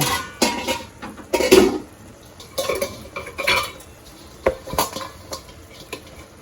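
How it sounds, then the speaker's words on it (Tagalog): A lid is swapped on a steaming cooking pot with pompano fish inside, making several close metallic clanks and clatters spread out over a few seconds, with a faint sizzle underneath and no talking. "Palitan natin yung takip na nakasingaw."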